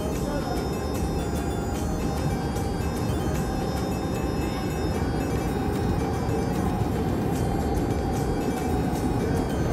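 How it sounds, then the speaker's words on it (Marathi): A train rumbles past close by on Vashi Bridge, a loud continuous rolling roar with rattling wheels, steady throughout and nearly masking everything else. "ट्रेन ट्रेन जुजू गाडी"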